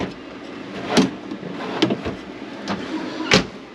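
Kitchen drawers in a 2012 Trailsport R-Vision 19E travel trailer open and close, giving four sharp knocks and thuds at irregular intervals over a quiet background.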